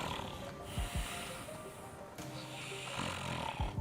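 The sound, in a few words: person imitating a hibernating bear's snore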